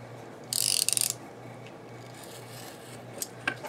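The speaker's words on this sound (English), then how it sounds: "we need to trim the edge off of this so it's nice and straight" A blade slices through the edge of a thick book being trimmed straight, a short loud scraping cut lasting about half a second, followed by faint rustling and a couple of small taps against quiet background hum.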